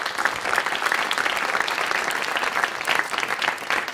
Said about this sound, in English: Let's have a round of applause for those sponsors.